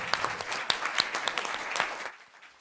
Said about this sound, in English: Can you please put a big round of applause together for the negative team?